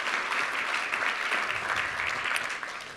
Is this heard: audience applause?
yes